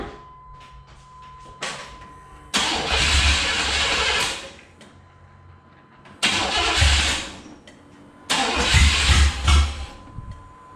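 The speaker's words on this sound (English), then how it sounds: "now that the mass airflow sensor's hooked up, I'm thinking this thing should start without starter fluid" A Chevrolet C/K 1500 Silverado truck engine cranks three times in loud bursts after a few quiet clicks, each attempt a harsh roaring churn lasting a second or two, close up with brief lulls between.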